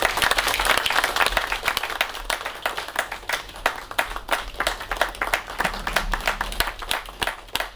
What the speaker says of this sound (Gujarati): આપણે સૌ તાળીથી વધાવી લઈએ